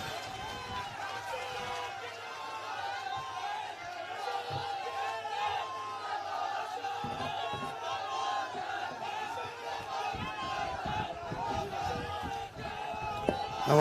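Large rally crowd welcoming Ashok Gehlot, a sustained rumble of clapping and cheering with scattered shouts, moderately distant, running under an amplified announcer's voice.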